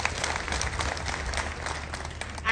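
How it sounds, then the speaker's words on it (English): An outdoor audience on a presidential tour in Uganda's Lango sub-region applauds the President. The clapping is dense and continuous, a steady wash of many hands with no voices over it. "Please, let's clap for the President."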